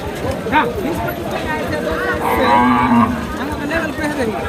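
Cattle moo at a roadside cattle market in Chapai Nawabganj, with drawn-out lowing calls rising over crowd chatter while someone talks nearby.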